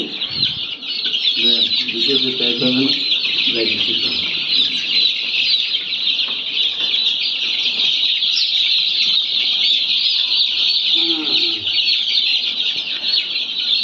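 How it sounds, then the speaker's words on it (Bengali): Hundreds of young Fayoumi chicks on a poultry farm peep and cheep at once, a loud, unbroken high chorus with brief lower calls rising through it near the start and again later. "এখানে আমাদের 500 ফার্মি মুরগির বাচ্চা ছিল।"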